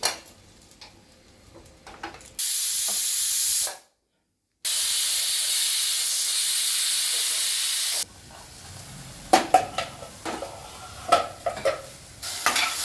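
A pressure cooker on a stove gives two long, loud, steady hissing bursts of escaping steam, separated by a brief silence, followed by quieter clinks and kitchen handling sounds.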